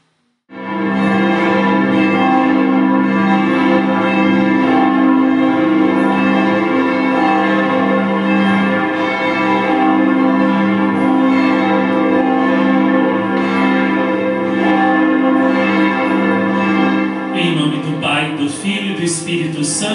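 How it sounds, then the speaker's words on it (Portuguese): Church bells ring joyfully and continuously, loud and close, a dense sustained peal filling the whole stretch on the last day of a Catholic devotional novena to the Queen of Peace, with no speech over it. "hoje os sinos soam alegres"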